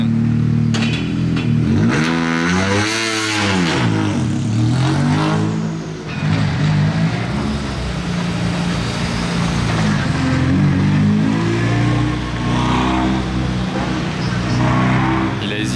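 A Ferrari 812 Competizione roars past nearby on a city street during the Monte-Carlo rally, its engine pitch rising and then falling as it passes, with street noise and faint talk around it.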